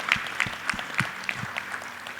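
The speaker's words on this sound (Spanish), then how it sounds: "Pues un aplauso al profe" Sparse applause for a teacher at a weekly movement assembly, a handful of separate claps spaced out over about two seconds, moderately close and thin rather than a full ovation.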